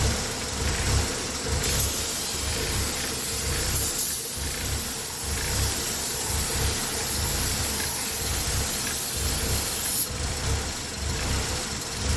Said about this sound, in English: Let me spray some brake cleaner over there.